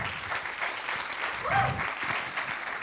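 Audience applause at a web conference, a dense, even patter of many hands clapping, with a voice briefly talking over it midway.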